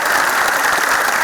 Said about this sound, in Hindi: ताली बजा देनी चाहिए अगर आप बात ठीक हो